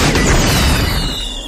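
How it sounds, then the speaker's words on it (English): A game explosion blowing up water plots in FarmVille 2 Country Escape, one broad booming burst that starts loud and then slowly fades into a rumbling decay, with no talk over it. "we're going to blow up the water plots"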